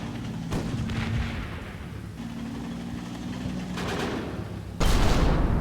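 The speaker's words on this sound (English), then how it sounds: "They shot 3 Panzerfausts at me and missed with every one of them." Panzerfaust anti-tank rockets fired in the Combat Mission WWII tank battle game, Pomerania 1945, heard as several loud booming launches and blasts over a steady low rumble of engines and battle noise, with a sharp heavy burst near the end.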